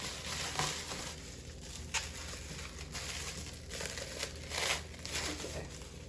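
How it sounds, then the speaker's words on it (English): Bubble wrap is peeled back and unwrapped by hand with soft, uneven crinkling and rustling, coming in irregular close bursts of moderate loudness. "I wasn't trying to rip the bubble wrap"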